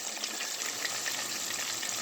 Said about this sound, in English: right now I got the shrimp cooking